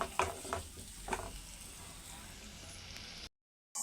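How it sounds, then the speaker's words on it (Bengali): A spice mix frying in a pan for prawn malai curry, soft steady sizzling with a few scraping stirs near the start, faint and close, before a sudden cutoff. "ভালো মতো এবার একটু নাড়িয়ে নেব"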